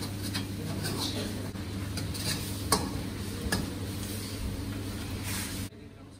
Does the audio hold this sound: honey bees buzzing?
no